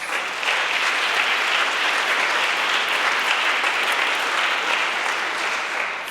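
Sustained applause from an audience at the European Youth Charlemagne Prize 2021 ceremony in Aachen, a dense, steady wash of clapping hands holding at even loudness for several seconds without pause.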